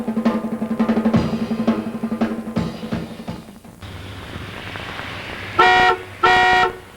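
Car horns in a traffic jam: a run of short toots and rumbling traffic, then after a pause two long, loud horn blasts close by, with no voices.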